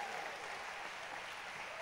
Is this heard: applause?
yes